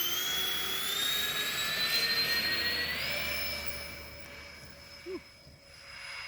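A Freewing A-10 radio-controlled jet with twin 80mm ducted fans takes off with a loud, high whine whose pitch rises and holds, gradually easing as it pulls away.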